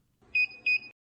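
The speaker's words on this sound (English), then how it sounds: "And that sound is just the kitchen timer on the oven." An oven's kitchen timer sounds two loud, high electronic beeps in quick succession, near and clear against a quiet kitchen.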